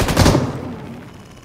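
A single loud, close gunshot from PUBG Mobile cracks at the start and rings out in a fading tail of echo.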